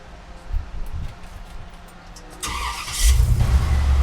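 A 1960 Pontiac Laurentian fitted with an LS engine cranks and fires up, its low engine rumble swelling abruptly after a quiet stretch of faint rustling and settling into a steady, close idle.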